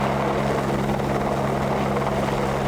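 A helicopter hovers with a heavy steel utility pole suspended on a cable 100 feet below it during powerline construction in Alaska, giving a loud, steady rotor and engine drone with a constant low thump that fills the whole stretch.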